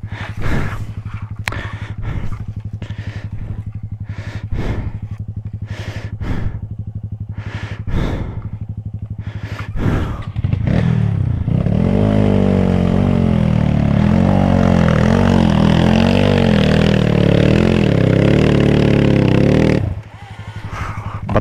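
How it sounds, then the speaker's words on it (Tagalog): Loud trail motorcycles on a rocky hill trail in Bugallon, Pangasinan: an engine roar that starts with short bursts, then swells into a sustained, close revving for about ten seconds before cutting off. "Lalakas motor nila."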